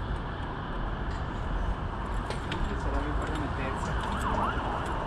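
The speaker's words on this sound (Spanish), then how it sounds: "están pasando muchas patrullas" A police siren wails faintly over heavy traffic rumble and street noise on a city street at night, as several patrol cars and other vehicles pass by.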